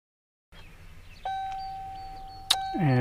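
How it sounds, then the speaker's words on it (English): A Chevy Silverado's electronic chime dings steadily during speedometer calibration, a clear repeating tone with brief higher beeps and a rising electronic sweep at the end, close and fairly loud inside the cab. "You can hear my chime dinging here."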